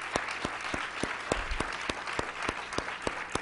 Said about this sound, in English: one last round of applause for our panelists, for our moderator